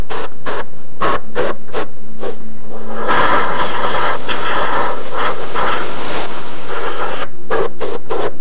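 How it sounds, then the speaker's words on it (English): Compressed air hisses steadily into the open intake of a 2001 Ford Escape V6 during an upper and lower intake gasket job, a loud burst lasting several seconds, bracketed by sharp clicks and handling knocks. "I'm just going to blow a little bit of air just to kind of get rid of some stuff"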